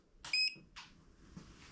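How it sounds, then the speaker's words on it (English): A Masterbuilt 2007-2612 electric smoker beeps as it is powered on, a short clear electronic beep followed by faint clicks in a quiet room. "We got a beep."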